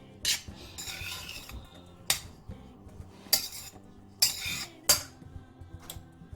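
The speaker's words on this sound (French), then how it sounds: "Je vais mélanger." A utensil stirs attiéké in a pot, scraping and clinking against the metal in several sharp bursts with quieter shuffling between them, close and fairly loud.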